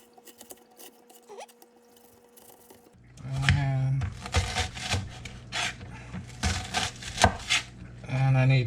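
A large knife chops an onion on a board in a small RV kitchen. After a quiet start come rapid, close, woody chops in an uneven rhythm that run to the end.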